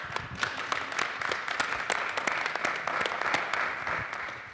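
Audience at a blockchain summit panel on real estate clapping, a steady patter of applause from a modest crowd with distinct individual claps, moderately quiet and even throughout.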